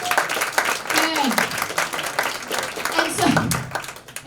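An audience at a comedy show about divorce bursts into applause and cheering, a dense clatter of clapping that swells and fades over several seconds, with a voice talking over it.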